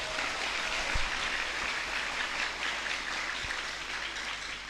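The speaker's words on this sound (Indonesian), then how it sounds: "aplaus untuk kita semua yang bertahan" Applause from an audience at a reflective gathering: a dense, steady wash of many hands clapping that holds throughout, fairly loud and with no talking.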